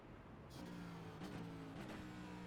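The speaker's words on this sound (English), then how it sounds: "You guys can hear the car." Race car engine at Watkins Glen droning steadily, its tone shifting as the driver lifts off the throttle to save fuel, heard at an even level with no voices over it.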